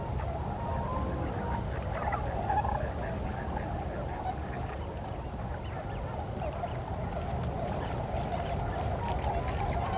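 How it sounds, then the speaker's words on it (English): A flock of tundra and trumpeter swans at Eagle Lake in fall calls continuously with overlapping honking and bugling, a dense steady chorus from mixed distances. "not just those big tundra and trumpeter swans"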